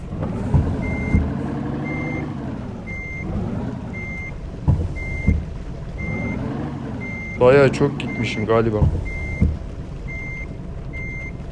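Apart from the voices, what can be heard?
truck reversing beeps in truck simulator video game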